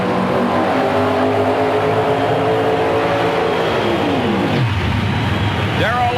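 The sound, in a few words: Dodge and Pontiac drag race cars racing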